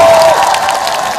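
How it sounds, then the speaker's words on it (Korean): A large outdoor crowd at a political campaign rally in Uijeongbu, Korea, applauds and cheers continuously, dense and loud, with a voice briefly heard over the clapping at the start. "가장 뜨거운 박수와 환호로 환영해 주십시오."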